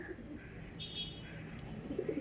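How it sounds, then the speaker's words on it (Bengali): Soft, low cooing of Madrasi pigeons in a loft, quiet and somewhat distant, against a faint background hum. "কত সুন্দর পায়রা দেখুন"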